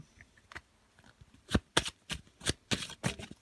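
Tarot cards are handled and laid out during a reading, starting with faint rustles and building into several crisp, close slaps and shuffles in quick succession.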